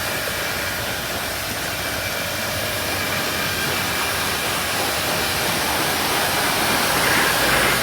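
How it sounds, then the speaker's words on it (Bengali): A Yamaha FZ V2 motorbike is rinsed with a water spray at a bike cleaning service, giving a loud, steady, broad hiss that holds unbroken throughout, with no voices. "এখন আমরা বাইকটা পানি মেরে নেব। পানি মেরে লিকুইডটা বের করে দিব।"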